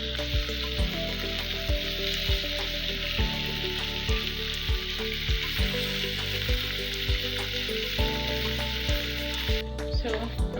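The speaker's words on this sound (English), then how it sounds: "So we're going to let it fry or cook till this side is brown, golden brown." Homemade pizza dough frying in a pan on the stovetop, a steady soft sizzle with regular low thumps and bubbling pops throughout, fairly quiet and close.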